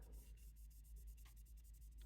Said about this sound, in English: You can hear that 3000 grit biting in there.